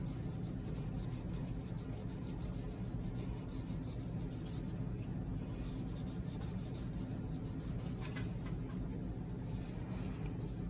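Close, steady rubbing on jewelry with 600 grit abrasive to take out scratches, a continuous scratchy friction with a regular back-and-forth rhythm and no talk.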